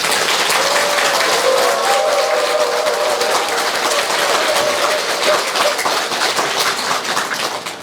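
A large crowd at an all-night Buddhist prayer service claps loudly and continuously, a dense roar of applause that swells and then slowly thins toward the end.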